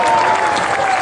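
An audience claps at a Hindi comic poetry recital, a dense, loud burst of steady applause that fills the moment without letup.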